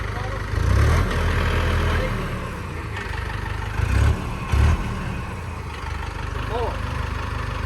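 A Mahindra tractor engine runs at a steady mid-pitched idle, with brief heavier thumps and surges as the throttle is worked, close by and continuous beneath occasional talk.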